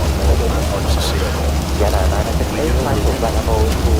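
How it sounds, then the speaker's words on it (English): Heavy rain pounds an airliner in flight, a thick continuous patter over deep engine and cabin drone, with people speaking beneath the downpour. "Oh yeah, we're getting dumped on pretty good right now."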